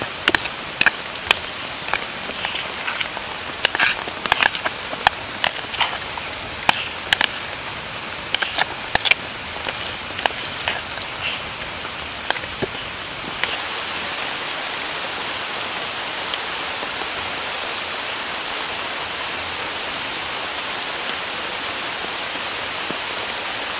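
Heavy rain pours on a camping tent pitched beside a river, a steady dense hiss with scattered sharper drop taps, louder early on and then settling into an even wash, with no talk.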